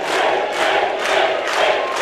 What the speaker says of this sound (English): And the crowd's really gone behind him this round.